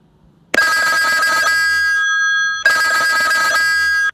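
A custom phone ringtone set to music plays loud and close after a moment of silence, with sustained bright tones that pause briefly and then start again.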